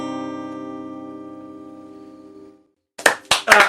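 Crowd applause and cheering erupts loudly after a song ends, following a fading musical tone and a brief silence, rising in bursts toward the end.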